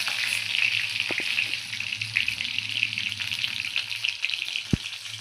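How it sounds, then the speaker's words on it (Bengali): Pointed gourd and potatoes fry in hot oil with a bright, steady sizzle up close, broken by a few clinks and one sharp knock near the end, with no talking. "তো পটলগুলো আমি একটু ভেজে নেবো, পটল আলু আমি ভেজে নেবো।"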